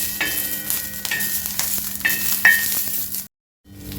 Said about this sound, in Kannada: ನೋಡಿ, ಚೆನ್ನಾಗಿ ಮೆಣಸಿನ್ಕಾಯಿ ಹುರ್ಕೊಂಡಿದ್ದೀನಿ.